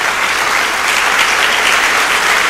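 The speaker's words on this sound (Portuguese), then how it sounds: "Dê uma salva de palmas a Jesus" A church congregation bursts into a short round of loud, close applause, dense and even clapping that holds steady throughout without any speech.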